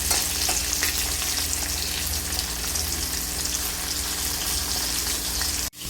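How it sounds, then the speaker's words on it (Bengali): Rohu fish pieces fry in hot oil in a pan, giving a close, continuous hissing sizzle that stays even throughout and stops abruptly at the end. "মাছগুলো এক দিকটা ভালোভাবে লাল করে ভেজে আরেক দিকটা পাল্টে দিয়েছি"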